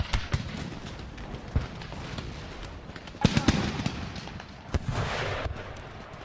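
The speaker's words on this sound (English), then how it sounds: "Mortar shots landing all around." Mortar shots land and burst around a pirate stronghold in the Empire: Total War strategy game, a scattered series of sharp booms and cracks at irregular intervals, with a denser cluster of impacts midway and a rumble of battle underneath.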